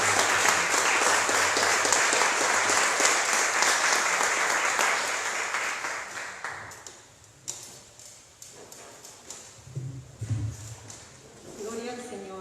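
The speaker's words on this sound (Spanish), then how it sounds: "Dele un aplauso a Cristo Jesús." Church congregation applauding during a Spanish-language service, loud sustained clapping from many hands for about six seconds before fading out, followed by quieter room sounds and speech.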